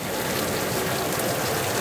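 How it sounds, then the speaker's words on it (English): Steady rain falls outdoors on a deck and surrounding surfaces, a dense, even patter of drops that stays constant throughout. "God, did we need this rain."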